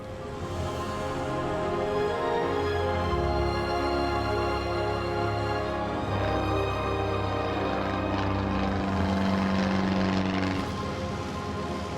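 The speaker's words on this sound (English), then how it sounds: "Eager to land the plane while it's still daylight, Dave turns for home." A small plane flies over magnificent mountain country near Bear Mountain, its steady engine and propeller drone holding loud and continuous with tonal harmonics throughout, no voices present.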